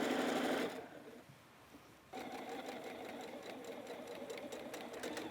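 A sewing machine stitches steadily while backstitching over pressed-open seams of a reversible bucket hat, pausing briefly before resuming a continuous close whir.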